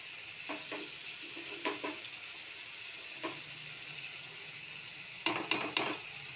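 Poppy seeds frying in a pan with a faint low sizzle, stirred with a few soft scrapes and then a quick run of louder clinks of a utensil against the pan.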